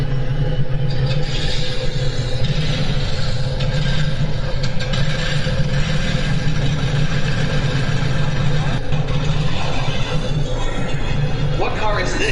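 A car engine runs at a steady, loud idle, a continuous rumbling drone that fills the clip, with voices faintly present underneath.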